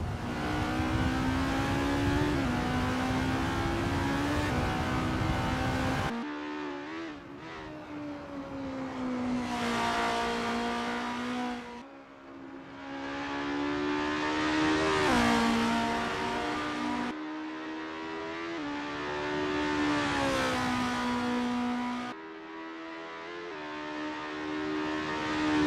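In the Assetto Corsa racing game, a formula race car runs a flying practice lap at the Mont Tremblant GP circuit. Its engine screams loud and close, rising through the gears, dropping on upshifts and braking, then climbing again, with no talking.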